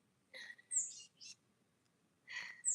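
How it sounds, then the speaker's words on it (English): A few birds singing outdoors, faint and sparse, with two or three short high chirps and trills separated by quiet gaps. "You hear those birds, like one or two birds."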